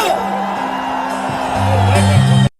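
A large outdoor festival crowd at Badlapur Mahotsav in Jaunpur claps and whoops loudly, a steady roar of applause and cheers that swells toward the end and then cuts off abruptly.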